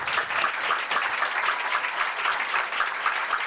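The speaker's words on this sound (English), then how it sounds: "if we could just give a round of applause for all of these great presenters tonight" An audience claps steadily for a lineup of presenters at a PechaKucha Night event in Burlington, Vermont, a dense, sustained round of applause heard alone from start to finish.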